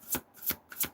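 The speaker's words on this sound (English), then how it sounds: "Shuffle." Tarot cards being shuffled in three quick riffling bursts, evenly spaced and fairly close, with no talking.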